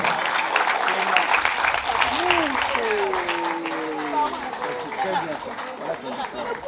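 Applause from a school prize-giving audience as a student comes forward to receive an excellence diploma, steady clapping mixed with crowd chatter and a voice over it throughout.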